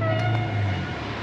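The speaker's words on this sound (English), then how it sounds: "that's the train." Train going past near a large Melbourne shopping centre, a brief loud steady rumble with a low droning tone, no talking over it.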